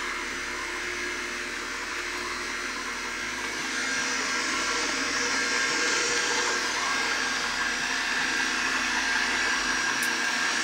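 An electric juicer whirs steadily while juicing oranges, a continuous near motor drone with dense broadband noise that grows slightly louder partway through, with no talk over it.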